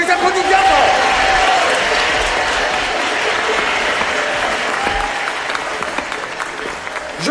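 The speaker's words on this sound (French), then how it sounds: "on les applaudit bien fort." Audience applause for the first contestants on a French game show, a dense sustained wash of clapping that stays loud throughout and tapers only slightly near the end.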